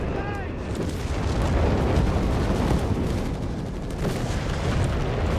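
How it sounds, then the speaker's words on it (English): Artillery and howitzer fire in a Company of Heroes 3 battle, with heavy booming blasts and rumbling impacts layered densely over continuous loud battlefield noise. "Artillery firing down here from Frost was brought in, unsurprisingly."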